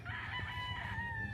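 Chickens on a large poultry farm cluck and a rooster crows in a sustained call, close and fairly loud over a steady low farmyard hum, with no one speaking.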